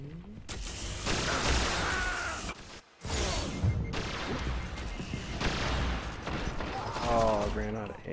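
Rapid bursts of fusion rifle fire ring out in a video game match, with dense crackling shots in clusters, a short pause, then more volleys; a voice sighs and talks faintly underneath.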